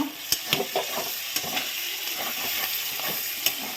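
Fish frying in hot oil in a kadai in a home kitchen, a soft steady sizzle with occasional sharper pops and crackles, quiet and close, with no talking.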